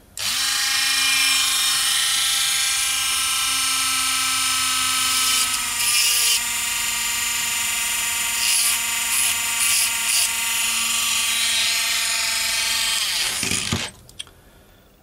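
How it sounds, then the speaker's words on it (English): A small rotary grinding tool whines steadily at high speed for about fourteen seconds, with brief bursts as it grinds a metal pin head flat on a TT gauge model railway bracket, then winds down. "I'm going to use my little grinding tool, so it might be kind of noisy"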